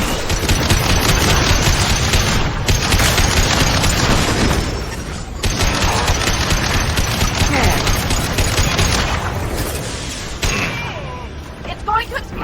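Heavy mech blowing up amid sustained gunfire in the video game Mass Effect 2, dense rattling automatic fire and booming blasts running continuously and loudly, with a brief lull before the fire resumes and fades toward the end.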